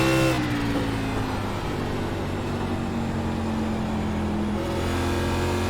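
A NASCAR Class B race car engine in the iRacing sim drones steadily under light, gradual throttle, with a continuous loud tone whose pitch slowly shifts as the car rolls on.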